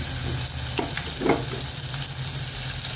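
Loud, continuous sizzle of a spice paste frying in hot oil after mustard seeds have popped, close up, with a few scraping stirs; no voices.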